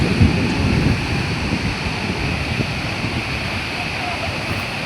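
Loud, constant roar of rushing water beside a mountain road on the way to Tawang, with wind buffeting the microphone, steady and near throughout.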